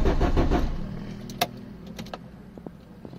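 A Renault Kangoo D65 with front-end impact damage and blown fuses cranks briefly in a quick rhythmic churn that stops after about half a second without catching, followed by quiet with a few scattered clicks.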